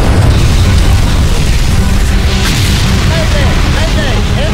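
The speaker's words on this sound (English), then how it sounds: "Mayday! Mayday! Engine explosion!" An aircraft engine explosion in the video game Extermination roars as a loud, sustained boom and rumble, dense and close throughout.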